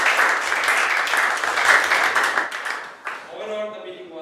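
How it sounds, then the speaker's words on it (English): Audience applause in a meeting hall, a dense, steady wash of clapping for about three seconds that fades, followed by quieter sound afterward. "That's why we have to give big round of applause."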